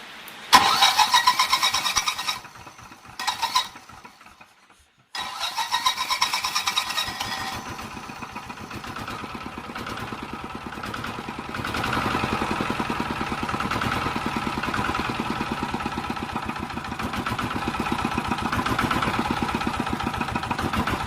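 A tractor engine started with a newly wired key switch: choppy, stop-start cranking for several seconds, a brief silence, then the engine catches and settles into a loud, steady, close idle that runs to the end.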